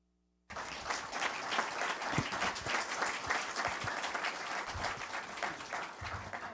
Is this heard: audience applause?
yes